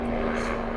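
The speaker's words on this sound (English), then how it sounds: "there's like a helicopter or something outside" Military helicopter flying outside, a steady low droning rotor hum heard indoors at moderate distance, continuous through the short moment without talk.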